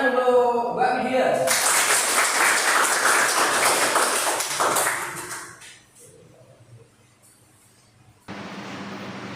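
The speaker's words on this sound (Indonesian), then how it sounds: "Tepuk tangan untuk Mbak Widya." A classroom bursts into applause for a student after her presentation, a few seconds of close clapping that follows talking and fades into a quiet room, then more talk resumes.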